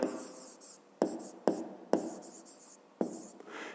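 Pen or pencil writing a maths exercise by hand for a fifth-grade lesson, close and dry, with five sharp strokes landing at uneven intervals, each followed by a brief scratchy trail.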